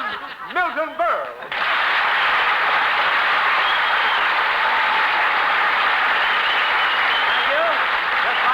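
Studio audience applause at a 1947 television show, a steady, dense wash of clapping that swells after a brief burst of talk and laughter, then holds loud and even to the end.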